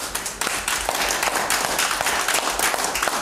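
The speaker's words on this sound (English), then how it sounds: "Give the Lord a hand clap." A church congregation claps for the Lord during a Sunday service, a dense, lively burst of many hands clapping together, close and continuous with uneven rhythm and no talk on top.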